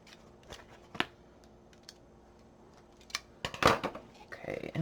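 Scissors trim the edge off paper during a simple tag-folio craft, a few quiet crisp snips and rustles, ending in a louder cluster of paper handling and cutting sounds up close.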